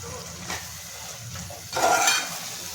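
Minced meat keema in masala is stirred and mixed in a pan with a soft, sizzling scrape, one brief knock early on and a louder rasping stir near the end.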